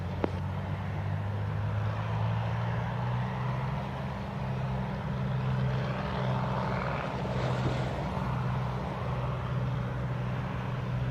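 An airplane's engines roaring steadily during takeoff at Montego Bay airport in Jamaica, a loud sustained low drone with broadband rumble that barely changes over the whole stretch.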